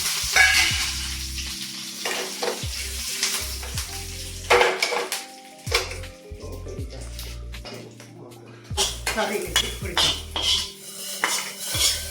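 Oil crackles and sizzles as green chillies and curry leaves hit a hot pan, with clinks of utensils against cookware and a spoon stirring close by.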